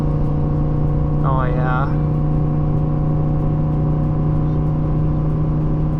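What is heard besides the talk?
Ford F150 5-liter Coyote V8 engine towing up a hill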